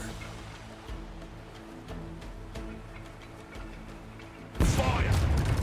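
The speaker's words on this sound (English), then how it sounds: "Let's hear those cannons roar." Ship cannons roaring in the video game Rogue Waters, a loud sudden booming volley near the end after a stretch of game music and ticking sounds.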